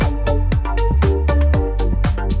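A plucked GarageBand synth patch called Pink Pluck plays a bright, steady melody of short repeated notes at a quick even pace, loud and alone with no talking.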